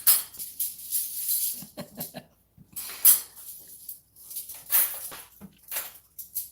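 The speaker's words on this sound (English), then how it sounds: "she's putting dishes away from the dishwasher" Clean dishes are unloaded from a dishwasher and put away in the background, with intermittent clinks, clatters and knocks coming in quick bursts separated by short pauses.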